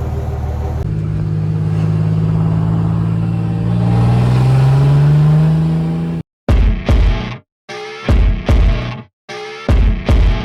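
Cummins diesel engine in a Dodge Ram 3500, loud and close, holds a steady rumble and rises in pitch as it revs, then cuts into several short, sharp throttle blips with abrupt silences between them.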